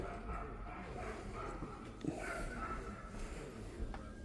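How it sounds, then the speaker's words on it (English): An unhappy dog barks and yips somewhere off at a distance, faint and intermittent, mixed into low background rumble of a workshop. "Somebody's dog is not happy."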